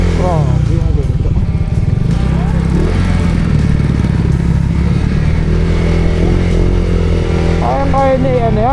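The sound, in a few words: motorcycle engine riding toward river crossing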